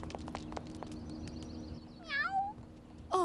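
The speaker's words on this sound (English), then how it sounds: "Oh, you are a handsome kitty." A cat meows in an animated cartoon, a couple of short rising mews near the end following some light clicks and rustling.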